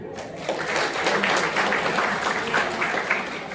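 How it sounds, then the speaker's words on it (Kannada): An audience at a college cultural and sports event in Anekal bursts into clapping after a brief pause, dense applause swelling and holding steady for a few seconds at moderate distance. "ಅವ್ರಿಗೆ ಚಪ್ಪಾಳೆ ಬಿಡಿ"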